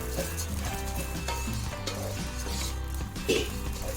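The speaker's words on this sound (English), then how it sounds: "So fry it well." Rice sizzling and frying in a hot pan for chicken biryani before boiling water is added, a steady crackle with occasional scraping clinks of a spoon against the pan.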